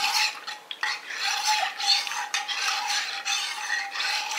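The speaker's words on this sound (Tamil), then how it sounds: "இந்த மாதிரி ஒரு கரண்டியை வச்சு நம்ம இப்படி கிண்டிக்கிட்டே இருக்கணும். பொங்குற வரைக்கும் இப்படியே கிண்டிக்கிட்டே இருக்கணும்." A ladle stirring cotton seed milk (paruthi paal) in a pot, continuous close scraping and swishing strokes in a steady rhythm with light metallic clinks, no speech.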